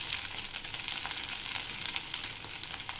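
A rava uttapam with vegetables sizzles on a hot pan right after being flipped, giving a continuous bright crackle with small popping bursts, close and alone.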